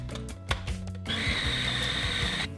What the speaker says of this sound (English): Into your food processor, add your dates with cocoa powder and blend until nice and smooth.